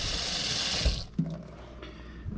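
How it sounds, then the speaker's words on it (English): Tap water runs from a kitchen sink faucet into a pot of oyster chowder for about a second, a steady broadband hiss that stops abruptly, followed by faint clinks and handling sounds. "go over here to the sink, put a little more water in"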